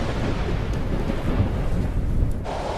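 Heavy rain in a typhoon-driven thunderstorm over eastern China, a loud, deep rumbling roar with a constant wash of rain noise and no pauses.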